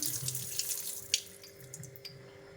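Water runs steadily from a tap into a container, a continuous splashing stream with a few brighter clinks of water hitting the vessel.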